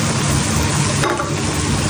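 Chicken shaljam stirred in a pot, a steady close scraping and mixing with a soft simmering hiss throughout, one brief louder scrape near the middle, no voices.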